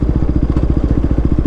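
A KTM 390 motorcycle engine, fully warmed up, idles in neutral with a steady, loud, rapid thumping pulse and a faint mechanical clatter over it. No one speaks.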